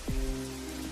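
Rain falls on a surface as a steady wash of patter, with a brief low swoosh at the start and faint tonal hum underneath.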